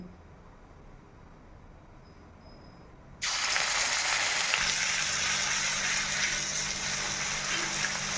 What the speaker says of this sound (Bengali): এবার আমি তেলের মধ্যে পেঁয়াজটা দিয়ে দেবো